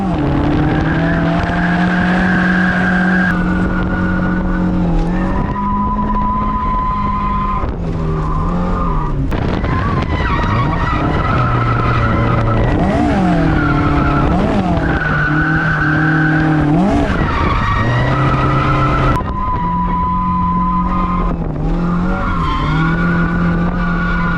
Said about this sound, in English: I learned how to drift at Ebisu, so I'll throw some clips in of that